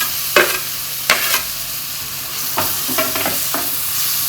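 Grated tomato and sautéed onion with garlic being stirred in a pan for a fried fish curry, a soft steady sizzle broken by a few scraping stirs of the spoon, close and clear with no talk.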